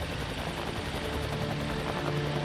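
A rescue helicopter hovers close overhead, its rotor beating in a steady rapid pulse over a loud, constant engine drone with no voices.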